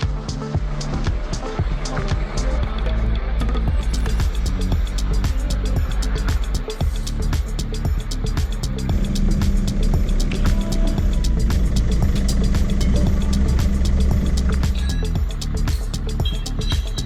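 A Sprinter van engine runs loud and steady up close as the van is moved into a new spot, a continuous rough rumble with clicks and shifts in load throughout.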